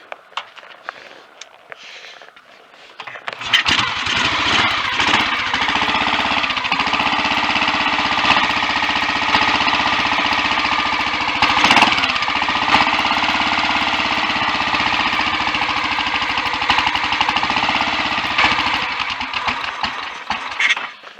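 A Royal Enfield 500 single-cylinder motorcycle with a small carburettor starts from completely cold: after a few quiet seconds of fiddling it fires up, and a loud, steady, throbbing idle fills the rest of the clip, close by.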